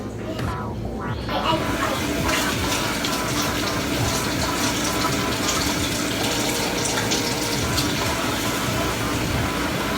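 Water pours steadily from a kitchen tap, a constant rushing splash that fills the whole stretch without pause.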